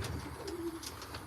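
Racing pigeons in a loft give a soft, low coo, faint against steady background hiss.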